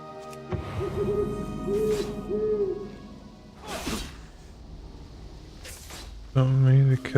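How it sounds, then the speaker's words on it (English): A bird in the World of Warcraft game gives soft owl-like hoots amid game sounds, with a couple of sharp swooshes and a louder tonal burst near the end, while a person talks over it. "Looks like there is an bird."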